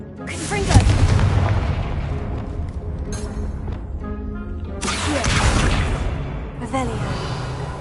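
A Confringo fire spell blasting in Hogwarts Legacy on PS5, two loud bursts with booming, crashing impacts and whooshing tails, one near the start and one past the middle, under steady game sound.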